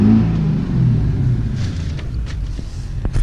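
A 2004 Chevy Duramax diesel pickup truck engine rumbling low and steady from inside the cab while driving, with faint clicks and knocks over the drone.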